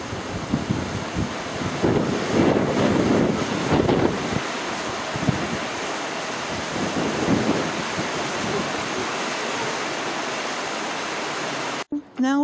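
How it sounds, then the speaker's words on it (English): Steady broadband rush of a waterfall at Franconia Notch State Park, heard up close and continuous, mixed with wind buffeting the microphone and a few faint voices underneath. "Waterfall down here."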